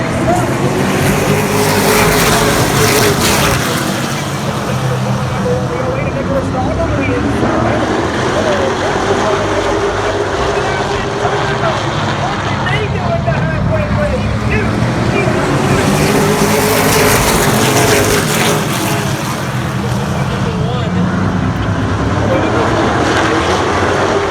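Pro Stock Tour race car engines roar continuously at close range at Scotia Speedworld, with a voice talking over the steady motor noise throughout.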